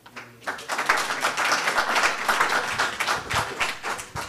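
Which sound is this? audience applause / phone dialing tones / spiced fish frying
audience applause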